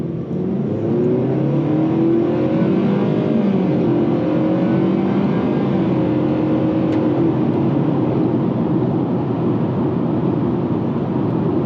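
A 2024 Nissan Sentra SV engine pulls under acceleration while driving, a steady, loud, continuous engine drone with road rumble that holds throughout and has no voices over it.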